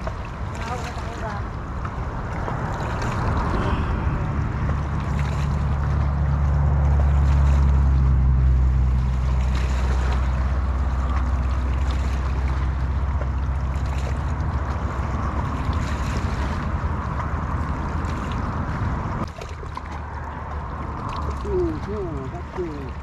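Boat wake waves from a passing big boat slap and wash around a small fishing boat at sea, a steady broadband splashing with engine rumble and wind noise, while people talk throughout.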